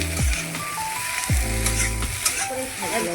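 Boiled potatoes go into a hot pan for a soybean and potato vegetable dish and set off a loud, steady sizzle, with a few scraping stirs close by.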